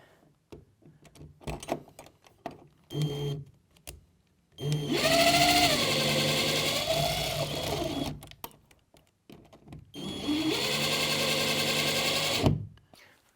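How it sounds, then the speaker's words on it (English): Electric screwdriver fixing a radiator bracket to a wall, whirring in two sustained bursts of a few seconds each with pitch shifting under load, separated by handling clicks and taps nearby. "Take my screwdriver."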